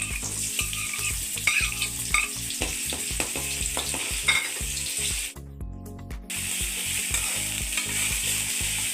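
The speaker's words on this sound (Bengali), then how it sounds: "পেঁয়াজ রসুন ভালোভাবে ভাজা হয়ে গেছে, পেঁয়াজ থেকে তেল ছেড়ে দিছে।" Chopped and paste onion with garlic paste sizzle in hot oil in a pan, with close, regular stirring and scraping strokes. A brief pause interrupts them midway before the frying and stirring resume.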